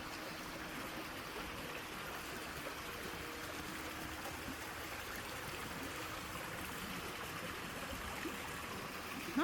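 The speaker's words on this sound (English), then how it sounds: "Not sure where that water's coming from, if that's just kind of draining from the fields." Water trickles steadily in a small stream by the abandoned canal lock village of Fricks Locks. It makes a continuous close babbling rush that stays even throughout, with no talk.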